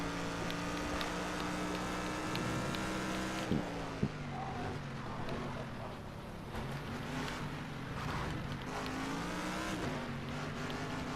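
Race car engine in a video game, a steady droning whine under acceleration as the car rides over curbs, with a couple of sharp bumps and shifting pitch as it changes gear.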